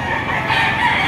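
A local banded rooster crows loudly and close, a single sustained call filling the whole moment with no talk over it.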